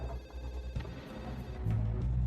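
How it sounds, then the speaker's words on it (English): A telephone rings in a prison control room, its bell tone steady and moderately loud over a low background rumble, with no voices. "In the control room, a phone call comes in."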